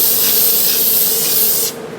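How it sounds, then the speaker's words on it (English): An aerosol can sprays oil onto seasoned Sicilian and Detroit-style pizza pans in one steady, close, loud hiss that stops abruptly near the end. "So I'm just going to spray them."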